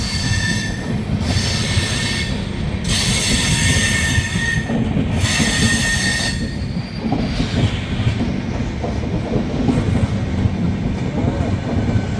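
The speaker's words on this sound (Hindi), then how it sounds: "भाई क्रॉसिंग तो हमारी ये हो गई है चेन्नई राजधानी से।" Chennai Rajdhani Express (MGR Chennai Central–Hazrat Nizamuddin) rushing past close by as another train crosses it, a steady loud rail roar with bursts of high wheel squeal and faint clickety-clack, fading after about seven seconds.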